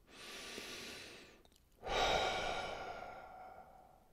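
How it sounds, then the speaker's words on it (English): Slow, deep breathing during a guided meditation: a long soft inhale, a brief pause, then a fuller, louder exhale through the mouth that fades away gradually. The breaths are close and there is no talking. "just let the breath fall out of your body"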